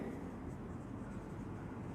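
Pen writing a calculation statement on paper during an accounting lesson, a steady close scratching and rubbing that runs continuously for about two seconds without pauses.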